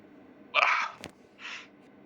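A single person's sneeze, a sharp loud burst with a brief second exhalation afterward, heard alone.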